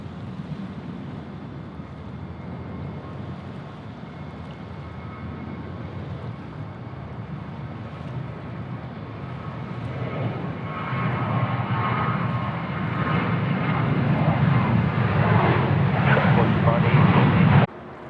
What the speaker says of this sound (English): Not sure how much of the A380 you guys caught on that